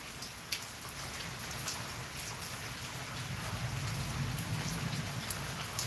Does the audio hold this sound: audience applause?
no